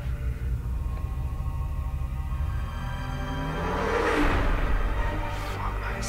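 A Bentley Continental Supersports, a 700-horsepower four-seater, revs its engine with a low steady drone that swells briefly into a louder rise, heard over a noisy background.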